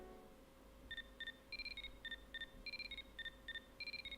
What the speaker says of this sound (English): That sounded like the freaking Kim Possible ringtone.